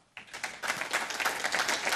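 Snooker spectators at the 2018 Scottish Open, during Mark Allen vs Liang Wenbo, break into applause after a shot: clapping starts abruptly and builds into a sustained, moderately loud ripple of many hands.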